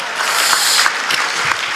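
An audience at a Gujarati comedy show gives hearty applause to the young people seated among them, a brief, fairly loud burst of many hands clapping with no speech.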